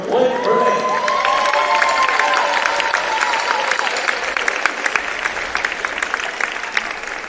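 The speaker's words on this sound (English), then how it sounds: "Please give a round of applause for our boys' all-time leading scorer, Blake Burnett" Sustained crowd applause with cheering fills a high school basketball gym at Bell County High School for a senior player, steady and loud throughout with scattered shouts rising toward the end.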